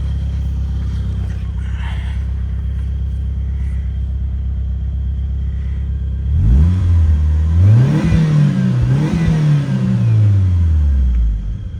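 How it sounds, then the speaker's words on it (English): A 1995 Mitsubishi Eclipse GSX idles with a low, steady rumble, then the engine is revved several times, rising and falling in quick blips, close and loud. "Give it a few revs here."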